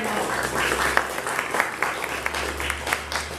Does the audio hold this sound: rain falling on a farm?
no